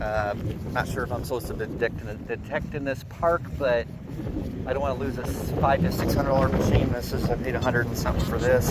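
Strong wind buffets the microphone outdoors in a park while someone talks steadily over the constant low rumbling gusts.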